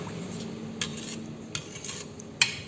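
Coconut milk being mixed with bay leaves and salt for chicken lemper, a spoon clinking a few times against the pot over a soft, steady stirring swish.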